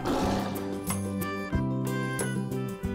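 A lion sound effect gives deep, rough roars in several successive bursts, loud and close with no other sounds.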